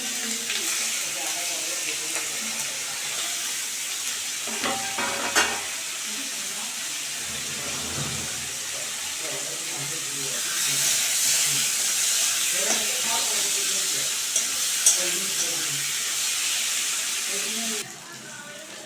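Onion, tomato and green chilli frying with spices in a pan, a steady broad hiss and sizzle with occasional stirring knocks, while a person talks over it.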